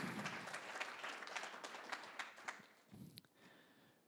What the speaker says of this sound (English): A big applause for him.